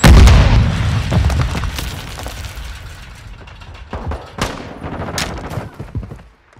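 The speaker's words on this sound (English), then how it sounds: "Semtex out!" A Semtex grenade goes off in Call of Duty: Modern Warfare II with a heavy close boom at the start, followed by scattered gunshots and smaller bangs in a busy firefight.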